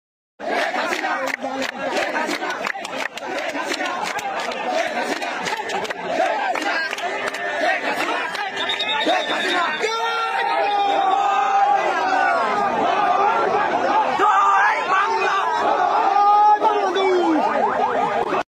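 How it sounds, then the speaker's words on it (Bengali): Protesters chant slogans together in a street demonstration while army soldiers stand nearby, a loud, steady crowd roar with rhythmic shouted calls and chatter mixed throughout. "আর এদিকে দেখেন আর্মি পাশে দাঁড়িয়ে আছে, তার পাশেই আন্দোলনকারীরা স্লোগান দিচ্ছে"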